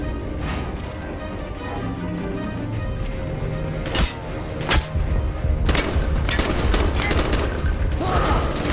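Gunfire in Call of Duty: Black Ops: a few scattered shots ring out over game background noise, then dense automatic bursts and rapid fusillades erupt loudly and keep going to the end.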